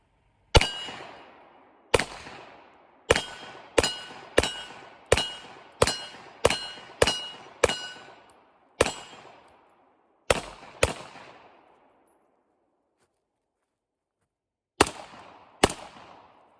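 Shots from a silenced gun at night ring out as sharp, loud cracks, about a dozen in a steady rhythm, then a pause, then two more, each with a short ringing decay and no talk.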